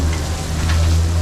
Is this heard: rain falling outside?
yes